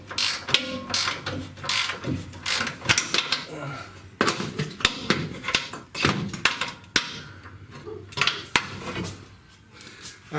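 Ratchet clicking on a shock bolt of a 2007 Dodge Ram 1500 truck, quick uneven bursts of ratcheting and metallic clinks close by, with someone talking over much of it.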